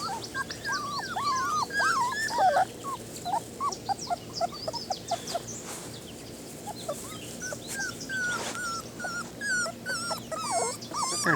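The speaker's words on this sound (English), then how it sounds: "They're good dogs, good puppies." A litter of puppies whimpers and yips in high, wavering cries, overlapping and near, with occasional low growls beneath the steady chorus.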